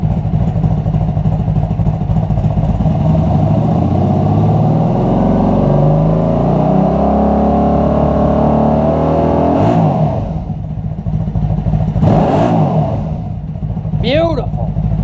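A car engine revving up and holding near a fixed RPM, a loud, sustained rising drone with harmonics sweeping upward, then dropping back with a couple of quick blips near the end; the car is being checked for a dead battery.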